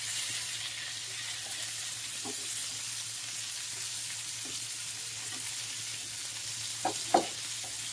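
Chicken frying in butter in a pan, a soft continuous sizzle with occasional light clinks and a couple of sharper scrapes near the end, close and steady with no talk.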